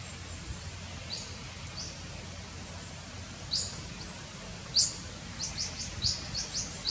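Bird chirping in an Australian backyard after rain, a series of short bright chirps that grow more frequent in the second half, moderately close over a soft low background hum.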